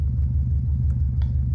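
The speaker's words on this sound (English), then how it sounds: "Now you can let go of the brake and start giving it some gas." Manual-transmission car engine idling low and steady as the driver starts giving it gas, a continuous close rumble with a couple of faint clicks and no voices.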